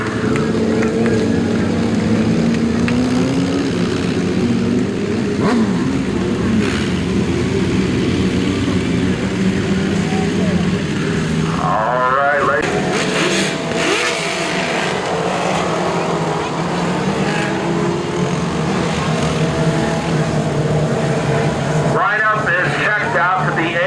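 Sprint race cars on turf tires roar around a speedway oval in a continuous engine drone that swells and fades as they pass, under an announcer's commentary.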